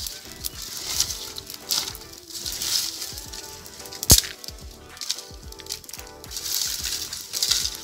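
Quick crackle and sizzle of a freshly lit wood fire under a cooking pot of boiling sweet potatoes, with soft pops, pattering and a sharp snap near the middle, close and steady throughout.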